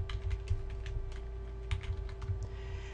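Login details being typed on a computer keyboard, with quick close keystrokes in uneven bursts at a soft, steady level and no talk.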